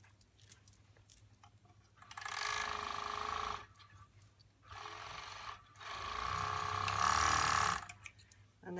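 Sewing machine stitching along the edge of a shirt vent on a boy's shirt: three bursts of steady, fast mechanical whirring, separated by short pauses with soft handling clicks.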